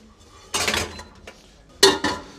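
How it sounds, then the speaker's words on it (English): Sugar being whisked into a miso base in a bowl, heard as two short bursts of brisk metal-on-bowl scraping and clinking with a quiet pause between them. "Right, whisk that together."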